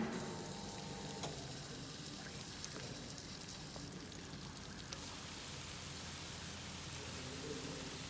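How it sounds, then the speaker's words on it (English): Simulated rain sprayed from nozzles over upstream and downstream sections of a hydrology lab rig, a steady broadband hiss of falling water that continues evenly throughout without pause. "turning the nozzles to create the rain in the upstream as well as in the downstream"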